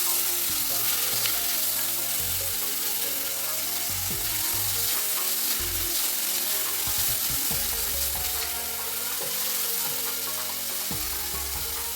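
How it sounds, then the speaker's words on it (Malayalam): Chopped green chillies and ginger-garlic paste sauté in hot oil for cutlets. A continuous close sizzle carries intermittent stirring scrapes throughout. "പിന്നെ നമ്മൾ ചെറുതായി അരിഞ്ഞ അതിൻ്റെ പച്ചമുളക് പിന്നെ ഇഞ്ചി വെളുത്തുള്ളി പേസ്റ്റ് നന്നായിട്ടൊന്ന് വാഴ്ത്തി കൊടുക്കാം"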